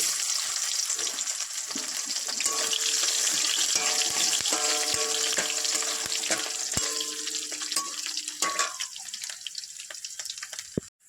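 Garlic frying in hot oil with dried red chillies and bay leaves, a steady close sizzle with stirring clinks that fades toward the end.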